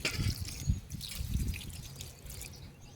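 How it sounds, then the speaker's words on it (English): Water pours and trickles onto a newly planted red petunia, with soft, uneven splashing and dribbling close by and no one talking. "Give you lots of water to get going."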